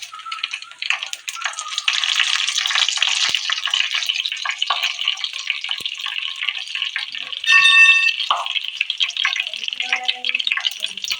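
Fennel seeds and then fenugreek seeds fry in hot oil for fish curry, giving a steady crackling sizzle that runs close and loud throughout, with a brief burst of louder spluttering partway through.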